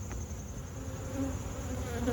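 Honey bees buzz steadily around an open hive, a continuous close, moderately quiet drone with no talking.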